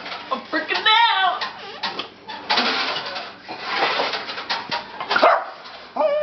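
A dog barks and whimpers near a dishwasher, giving an uneven run of yips and whines mixed with people talking nearby in a home.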